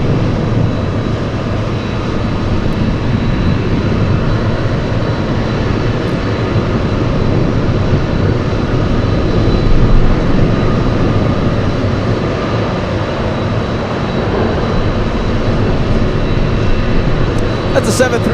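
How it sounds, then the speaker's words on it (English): An Alaska Airlines Boeing 737-800 arrives from Kodiak at Anchorage in gusty winds, giving a steady, broad engine roar that holds for the whole stretch and swells slightly midway. "We have Alaska Airlines, a 737, flying in from Kodiak, Alaska, arriving right on time."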